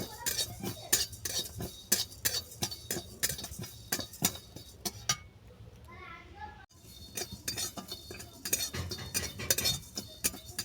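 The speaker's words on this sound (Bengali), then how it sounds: "এগুলোকে ড্রাই রোস্ট করে নিচ্ছি।" Whole spices dry roasting in a metal pan for raw mango pickle, with a spoon scraping and clinking against the pan in a steady, busy rhythm and a short quieter pause midway where a faint voice is heard.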